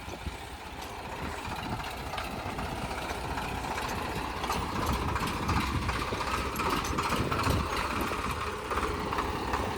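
A tractor engine idles in a village setting, a low steady rumble with a faint mechanical rattle that holds even throughout, close and moderately loud, with no talk over it.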